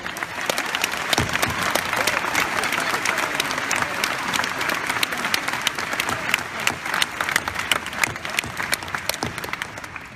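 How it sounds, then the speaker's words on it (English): A commencement crowd gives a sustained round of applause for President Halstead at his last commencement, with dense, steady clapping lasting about ten seconds. "I just want to give him another round of applause because this is his last commencement"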